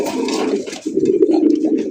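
A pigeon coos close by in a deep, throaty, rolling call that carries on for two seconds with a short break near the middle, with no voices over it.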